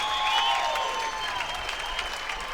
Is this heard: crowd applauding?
yes